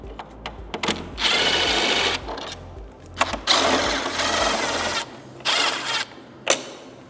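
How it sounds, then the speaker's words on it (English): Power tool or screwdriver removing the lower screws from a Harley-Davidson CVO fairing during a Stage 2 amp and speaker upgrade, heard as several loud whirring bursts of varying length with short pauses between, close up and with no talking. "Next thing, I'm going to remove the 2 screws down low."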